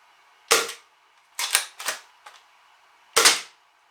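A 3D printed Gecko foam dart blaster fires darts in four sharp snapping shots, one alone, then a quick pair, then a final single shot, loud and close against near silence.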